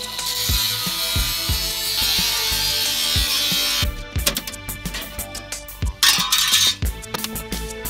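A power saw cuts through the sheet-metal wheel arch on the passenger side of a Mitsubishi L300 motorhome, first as a steady harsh buzz over rhythmic knocks, then as choppy stop-start rasps and clatter.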